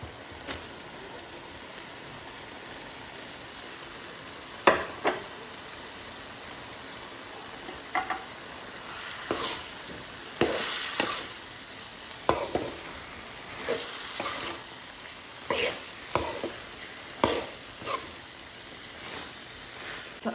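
Eggplant is stir-fried in a pan with a continuous soft sizzle, broken by scraping and clinking of a utensil stirring at irregular intervals, close and fairly quiet.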